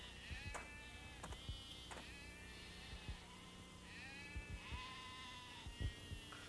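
A cartoon sheep bleats several times in wavering, nasal cries, close and clear over faint background noise and a few soft knocks.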